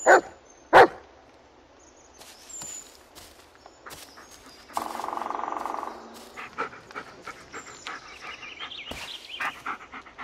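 A dog in the horror video game Blair Witch gives two sharp barks near the start, then pants and patters around over a quiet, eerie background with a burst of rustling noise midway.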